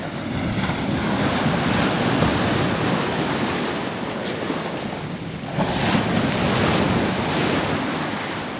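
Surf and gusting wind on Marrowstone Island North Beach along Puget Sound at high tide form a loud, continuous roar with rising and falling swells and heavy wind buffeting the microphone.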